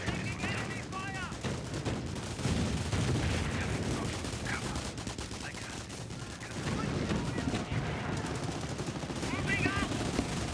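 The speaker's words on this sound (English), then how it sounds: "Enemy fire!" Sustained automatic gunfire and bursts from a multiplayer war video game, loud and continuous under in-game radio chatter and shouted voice lines, with a brief lull midway before the shooting swells again.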